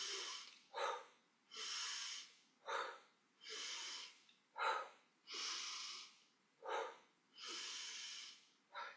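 Rapid, active yogic breathing during a Kundalini yoga session, drawn in through the nose and pushed out through the mouth, about ten loud, close breaths in a steady rhythm with no talking.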